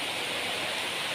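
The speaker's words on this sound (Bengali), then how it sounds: "আর এখন এলো একদম মুষলধারে বৃষ্টি। তোমরা বৃষ্টির আওয়াজও শুনতে পাচ্ছ" Heavy evening downpour after a windy, thundery spell, a dense continuous roar of pouring rain, steady and even throughout, with no voices.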